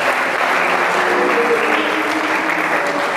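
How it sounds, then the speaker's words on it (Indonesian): A church congregation at a Christmas service claps in praise, loud sustained applause from a full room with a faint tonal hum of music or voices underneath. "Beri tepuk tangan mempermuliakan Tuhan."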